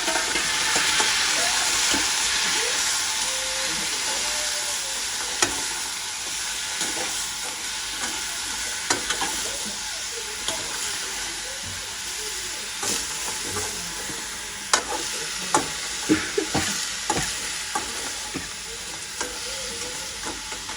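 Crab frying in a pan with sautéed onions, a continuous bright sizzle broken by scraping stirs and occasional sharp clacks of the spoon against the pan, close and loud with no talking.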